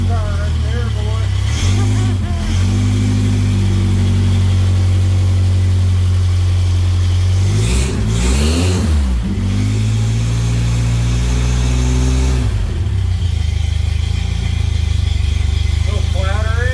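Freshly revived car engine running loud and steady at idle, with a couple of brief revs rising and falling, and voices talking over it.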